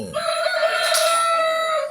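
A battery-operated toy chicken lets out one loud, close electronic rooster crow lasting nearly two seconds, steady and bright with no talk over it.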